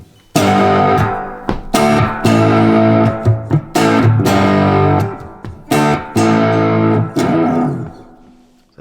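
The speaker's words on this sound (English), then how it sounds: "that's your reverb" Electric guitar chords through a Spark amp's reverb effect, strummed with spacious reverb, each strike ringing out and trailing off in a wash before the next, loud and close.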